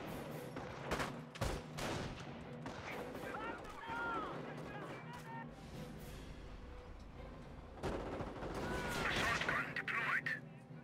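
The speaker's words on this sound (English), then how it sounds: "Machine gun team does take up a little bit of fire there from the STG squad" Machine gun team and StG squad exchanging fire in Company of Heroes, with bursts of rapid gunfire and booming shots mixed with battle noise and a commentator talking throughout.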